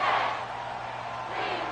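A stadium crowd roars in an American football video game, a broad, sustained cheering wash that swells and dips slightly across a couple of seconds.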